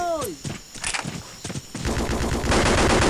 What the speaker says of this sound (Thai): ปืนพกมันต้องยิงอย่างนี้